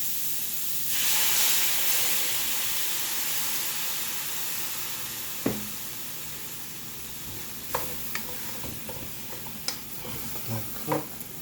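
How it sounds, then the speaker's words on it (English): Red wine poured into a hot pan while cooking chicken cacciatore, giving a broad steady sizzle and hiss that flares at the start and settles into a soft, continuous fry, with a few light clinks and stirring knocks near the end. "Now we're going to add a little bit of red wine."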